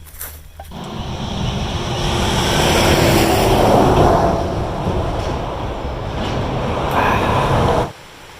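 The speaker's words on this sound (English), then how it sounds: "If this creek is dangerous, the next one is life-threatening." Rushing creek water on the Appalachian Trail, a steady broadband roar of fast-flowing current that stays loud and close throughout before cutting off abruptly near the end, with no talking.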